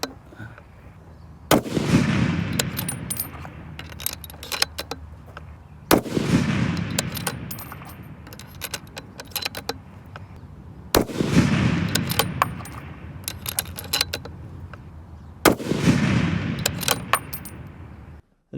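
Four loud, sharp long-range rifle shots with Berger 184gr loads fired at a 1000-yard range, spaced about every four to five seconds, each followed by a rumbling echo and faint clicks between shots.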